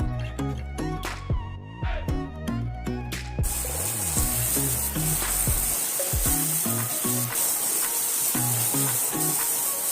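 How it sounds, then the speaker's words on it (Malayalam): Banana cubes sauté in ghee in a pan over a medium flame with a steady, close sizzle. Stirring clinks and scrapes come through the first few seconds, and the frying hiss continues throughout. "ഇതൊന്ന് നെയ്യിലേക്ക് നമുക്ക് ആഡ് ചെയ്ത് കൊടുക്കാം ഇനി നമുക്ക് മീഡിയം ഫ്ലെയിമിൽ വെച്ചിട്ട് പഴം ഒന്ന് വഴറ്റിയെടുക്കാം"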